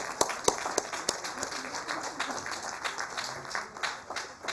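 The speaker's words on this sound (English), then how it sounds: "Please give a big round of applause." Audience clapping at an award ceremony, a steady patter of many hands with a few sharp individual claps standing out, moderately close and continuing throughout, with faint voices beneath.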